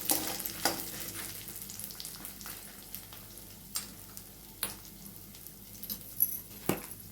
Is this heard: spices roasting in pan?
yes